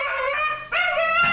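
Dog in a bathtub giving drawn-out, howling whimpers and yelps, two long vocal bursts with a short gap between, close and loud with no other voices.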